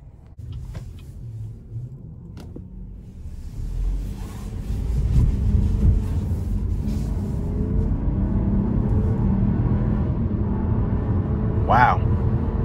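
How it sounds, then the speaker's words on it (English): From inside a 2021 Chevrolet Trailblazer RS AWD on the road, a low engine and road rumble builds as the car gets moving, then holds steady with a faint high whine near the end. "take this 2021 Trailblazer RS all-wheel drive out on the road for a quick test drive"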